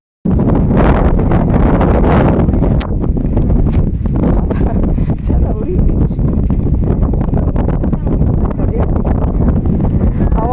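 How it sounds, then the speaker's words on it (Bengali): Strong wind buffets the microphone outdoors along an open road near a river with towers and fields, a loud continuous roar with gusts, while a person talks over it. "ভীষণ হাওয়া ভীষণ হাওয়া"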